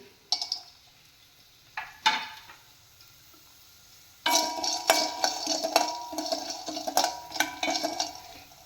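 Peanuts go into a hot pan of beetroot chutney with a few scattered clicks, then a steady, close crackling fry with faint ticks and stirring takes over for the last few seconds.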